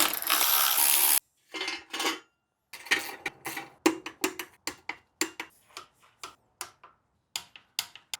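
Metal bolts fitted to attach the oil pump on a BMW M54B30 engine during a BMW X5 rebuild: a brief noise burst, then a series of close, sharp metallic ticks and clinks at an irregular, quickening pace, with nobody talking.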